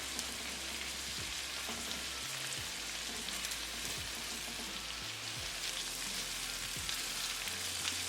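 Pieces of salmon sizzle steadily in a hot pan for garlic salmon, with a continuous crackling fry and a few low thumps and scrapes as the fillets are flipped over.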